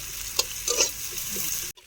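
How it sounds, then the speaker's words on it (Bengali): Onions fry in oil left over from frying fish, a close, steady sizzle with a few short stirring knocks, no voices, lasting under two seconds before cutting off. "পেঁয়াজগুলো একটু ভেজে নেব।"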